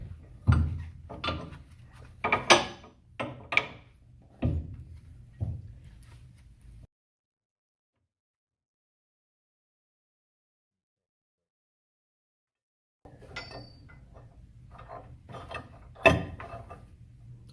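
Bolts tightened during installation of a lowering kit on a 1964 Mustang rear suspension, a close series of sharp metallic clicks and clanks in irregular bursts, then a long silent gap before more tool clatter resumes.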